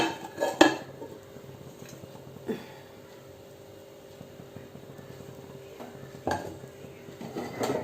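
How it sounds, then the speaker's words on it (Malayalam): A bread and banana pola mixture is tipped from one pan into another pan greased with ghee, giving a few metallic knocks and scrapes of cookware against a steady background hum. "വേറൊരു പാനിലിട്ട് കൊട്ടിയിടാം"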